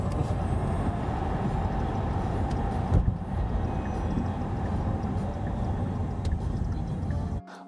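Steady road and motor noise from a Qiantu K50 electric sports car accelerating through an underpass in Shanghai, a continuous moderate rush that cuts off abruptly near the end.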